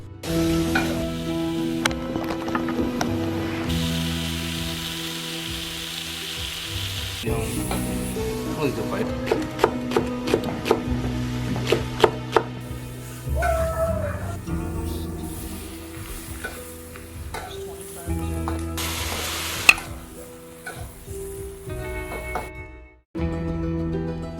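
A chef uncle cooks his own birthday dinner in rural Hunan, China, with food sizzling and being stirred in a hot pan under background music and occasional voices.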